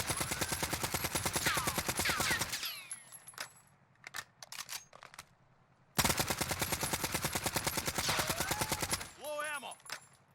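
AN94 assault rifle firing in Warzone, two long rapid-fire bursts of sharp, evenly spaced shots with a quiet gap of scattered clinks and shell sounds between them and a short ringing tail at the end.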